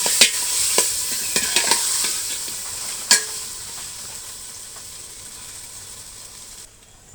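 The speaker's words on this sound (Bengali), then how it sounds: "পেঁয়াজ কুচিগুলো লাল লাল করে ভেজে মাংস মাংস দিয়ে কষিয়ে নেবো" Chopped onions and country chicken frying in a pan, a steady close sizzle with sharp clacks of a spatula stirring, the loudest knocks early and midway, the sizzle easing toward the end.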